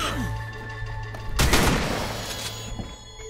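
A single heavy shotgun blast in the video game Ark Survival Evolved, a loud close boom with a lingering rumbling tail, set against steady game ambience and background hum.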